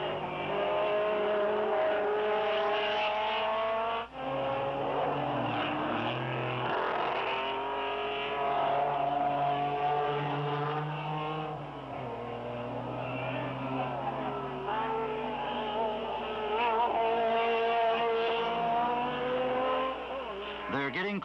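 Mazda rotary-engine race cars, including a blue RX2, scream around the Fuji circuit in a 1972 race, with sustained loud engine howl, rising and falling revs and passing cars, under continuous race commentary.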